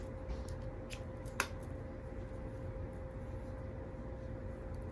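Scissors snip crochet yarn at the end of a slip stitch on a small crocheted heart: one short, crisp cut standing out near the start of a quiet room hum, with no talking.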